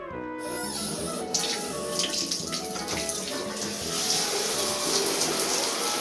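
Tap water runs steadily into a sink while a pan is washed by hand, a close, continuous gushing stream with splashing shifts as the pan moves under it, no voices.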